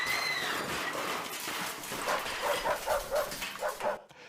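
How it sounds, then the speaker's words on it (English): A dog barks in a basement, a faint, muffled run of short barks that comes from a distance and repeats in a quick series near the end. "Like a dog barking in my basement?"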